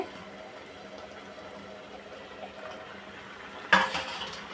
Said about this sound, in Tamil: வெள்ளம் சேர்த்து நல்லா வெள்ளமும் மாங்காயும் கொதிச்சிட்ருக்கு